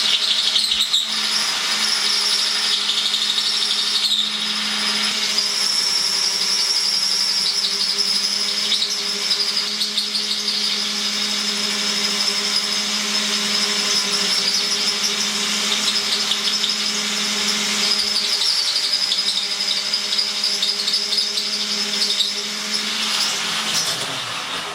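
A Porcadrill 365 diamond-tip bit grinds into porcelain tile with water cooling, a loud sustained high-pitched whine and grinding drone holding steady throughout, with slight wavering as pressure changes.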